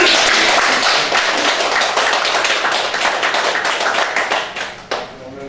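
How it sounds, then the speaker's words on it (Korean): Loud, dense clapping from an audience at a local council members' study session in a lawmaker's office, a steady burst of many hands that thins out and fades toward the end. "참 박수를 한번 크게 받아야 됩니다"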